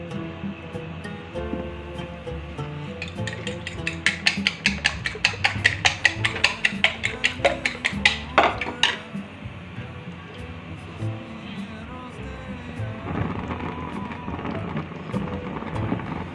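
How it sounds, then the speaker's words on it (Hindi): Two eggs are beaten with a spoon in a bowl before going into vegetable soup, a quick run of rapid rhythmic clinks and taps building for a few seconds and then stopping, over a soft background hum. "ये मैंने 2 अंडे लिए और अब मैं इनको फेंट के इसके अंदर मैं मिक्स करती हूँ"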